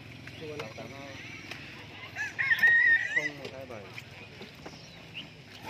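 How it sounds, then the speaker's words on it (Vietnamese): A junglefowl rooster crows once, clear and fairly close, at a busy bird market, with someone talking and other market noise around it. "thấy mấy con gà rừng nữa rồi"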